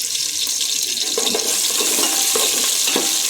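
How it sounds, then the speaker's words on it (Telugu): Onions fry in a pan until browning, with whole spices for paya curry. A steady, dense sizzle runs throughout with no voices. "ఈ ఆనియన్స్ మంచిగా బ్రౌనిష్ అయ్యే వరకు మనం ఫ్రై చేయాలి."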